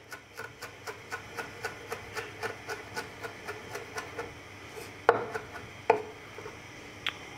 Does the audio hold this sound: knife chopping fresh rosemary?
yes